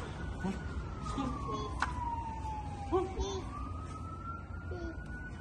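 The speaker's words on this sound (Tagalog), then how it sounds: "Daming ambulance po nga" Ambulance sirens wail through a snowy street, a clear rising and falling tone at moderate distance with a second siren overlapping near the end, under faint background voices.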